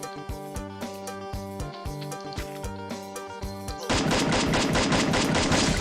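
Rapid gunfire in the shooting game Free Fire, a steady rhythmic series of sharp shots followed by a denser, louder burst of automatic fire, fairly faint overall.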